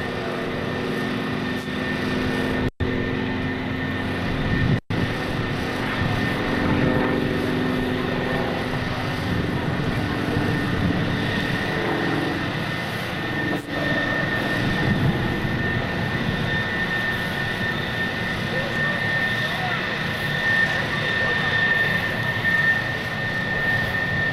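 A loud, sustained aircraft engine roar fills the air, a steady droning rumble with a high whine, as a plane performs nearby at the 2002 NAS Oceana Airshow.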